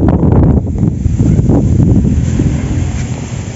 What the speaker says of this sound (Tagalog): ang lakas ng hangin, umuugong lang yan